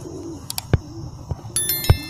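High-flyer pigeons coo softly at close range, giving two short low coos about a second apart amid light ambient noise and faint chirps.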